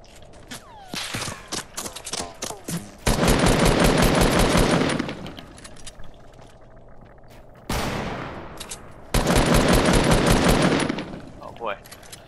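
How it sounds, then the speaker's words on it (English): Rapid automatic gunfire in a multiplayer video game fires in long loud bursts, separated by scattered single shots and quieter gaps, with brief player voices between. "Well, we are getting shot at."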